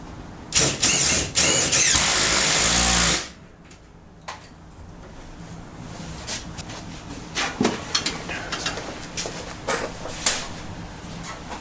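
A power tool drives a lag screw into a garage wall to mount a heater, a loud continuous whirring burst of about three seconds followed by quieter clicks and handling knocks.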